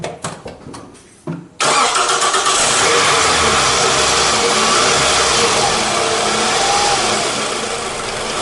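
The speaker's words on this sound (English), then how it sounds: "and I can start this my car." A Toyota Camry engine cranks with a few rapid starter bursts, then catches and settles into a loud, steady running drone close by.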